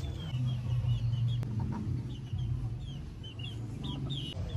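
Chickens cluck softly here and there over a low, steady background rumble, fairly distant with no talking.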